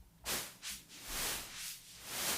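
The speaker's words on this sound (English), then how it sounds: "So that's just a little bit of noise." Soft hissing noise from a synthesizer's noise oscillator in Ableton Live 12's Meld, swelling and fading in slow, uneven waves, like filtered wind, quiet and alone.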